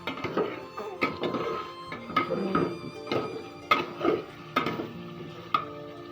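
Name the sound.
stirring chicken and potatoes in a pot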